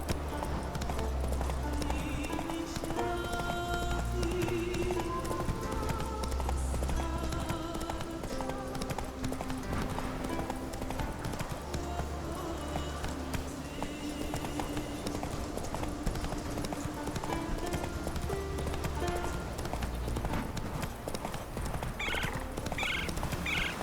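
Horse hooves clip-clopping at a steady gallop in The Witcher 3: Wild Hunt, rhythmic and continuous beneath game music, with a brief whinny.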